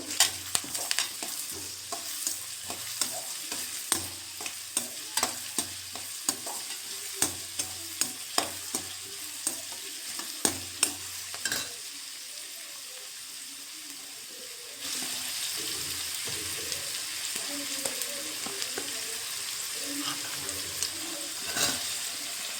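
Capsicum for avrekal capsicum chitranna is stirred in a pan with curry leaves, giving sharp repeated scrapes over a low sizzle, then a steadier rush of frying or running water takes over partway through.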